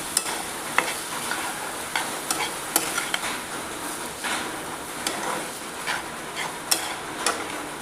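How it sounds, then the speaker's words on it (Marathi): Vermicelli and finely chopped coriander stir-fried in a pan, with repeated scraping and tapping of a spatula against the metal over a light sizzle, a steady rhythm of strokes close by. "आता त्यात घालणार आहे ह्या आपल्या शेवया आणि हे असं परतून घ्यायचं"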